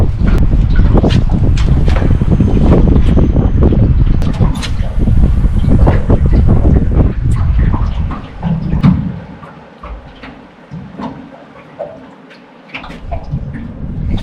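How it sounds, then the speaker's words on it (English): Strong wind tears through a narrow passage on an isolated island, a loud, continuous roar buffeting the microphone for most of the stretch before easing into quieter gusts near the end. "The wind's like full swinging in here, sort of like ripping through the passage"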